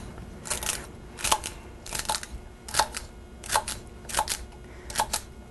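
Knife cutting through celery stalks on a board in a home kitchen, a steady series of about nine crisp, close crunching chops spaced evenly, each with a bright snap, alone with no talk.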